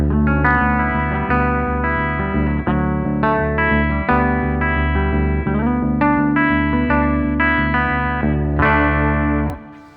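An electric guitar plays a sequence of ringing two-note harmonized shapes with chorus and distortion, steady and continuous for about ten seconds before cutting off.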